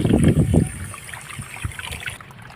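Cut goat tripe is washed and squeezed in water, making a loud, close burst of splashing at first that settles into quieter sloshing and dripping.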